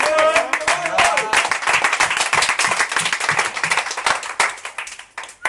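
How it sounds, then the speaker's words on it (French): A room of people clapping at the finale of a Tekken 5 tournament, loud and dense at first and then thinning out, with voices heard over the start. "Et sur des applaudissements peut-être. Ouais, un petit applaudissement."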